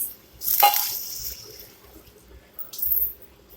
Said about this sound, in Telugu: ఒక త్రీ కప్స్ మేము వాటర్ యాడ్ చేసుకుంటున్నాం